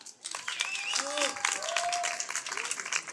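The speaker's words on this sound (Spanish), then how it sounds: "Un aplauso para G." Audience applause at a poetry slam final, a steady patter of clapping that rises after the introduction of the next poet, with voices and faint speech mixed in over the hands.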